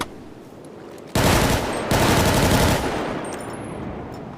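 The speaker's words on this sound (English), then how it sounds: "next we got the assault rifle slash like the AK kind of. We got the combine rifle." Assault rifle fire from a FiveM game sound pack, an AK-style weapon, in two loud, rapid automatic bursts of about two seconds in total that tail off into a fading echo.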